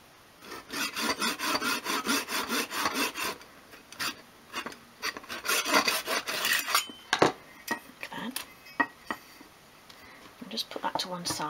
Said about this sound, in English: to cut it I'm using a mitre block and saw